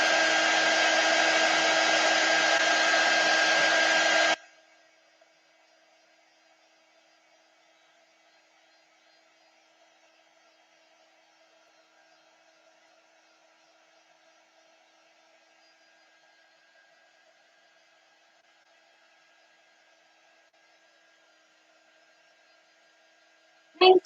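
Heat tool drying watered-down watercolor on a Chalk Couture craft project, a loud steady blowing hiss for about four seconds before it cuts off, followed by near silence with faint hum.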